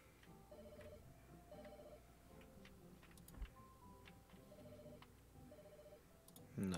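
In the video game Pets Hotel, a phone rings quietly in short repeated electronic trills over faint ticking game sounds, with no voices.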